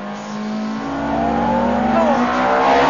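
A Ferrari race car on tarmac accelerates hard as the throttle goes down, its engine note climbing steadily in pitch and growing louder over a few seconds, close and dominant, with no talk.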